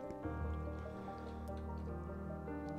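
Water being placed in the Minecraft video game, soft liquid squishing and dripping sounds in a quiet stretch over steady background music.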